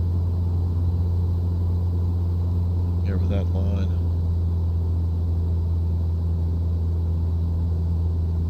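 A Cessna 172 engine held at redline in Microsoft Flight Simulator during a mountain pass crossing, giving a steady, loud, unbroken drone throughout, with a brief spoken phrase over it midway.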